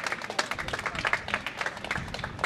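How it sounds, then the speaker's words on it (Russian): Audience applause at an outdoor forest concert, a steady dense patter of many hands clapping continuously, moderately loud and close, with no talk over it. "Пожалуйста, проводим их аплодисментами."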